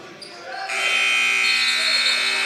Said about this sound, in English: And there goes the buzzer.